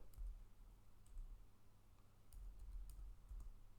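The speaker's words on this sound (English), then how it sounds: "I'll type the command" Quiet keystrokes on a computer keyboard come in small clusters and single taps, soft and close against a low background hum.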